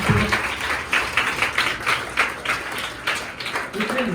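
Children clapping at a school teacher-practice and thanks party, an uneven patter of scattered claps with a voice talking through it.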